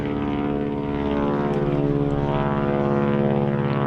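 A propeller airplane drones steadily overhead above a summer vegetable garden, a loud, continuous engine hum with rich harmonic tones holding for the whole stretch, no talk over it.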